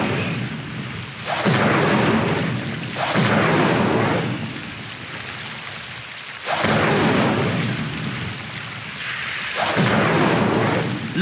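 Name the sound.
Incendio fire spell in video game Hogwarts Legacy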